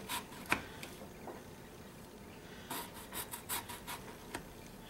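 A sharp knife cuts thin slices into a potato down to wooden spoons for hasselback potatoes, giving a few soft crisp clicks followed by a quick run of short chopping taps, close and faint with no talking.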